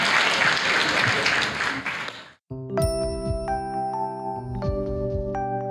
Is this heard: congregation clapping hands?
yes